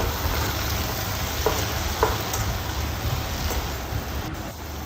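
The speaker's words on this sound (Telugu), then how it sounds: "టొమాటోస్ మీడియం ఫ్లేమ్లో బాగా మగ్గించుకోవాలన్నమాట" Tomatoes fry in a pan over a medium flame, giving a steady, close hiss with faint crackles and occasional light pops throughout.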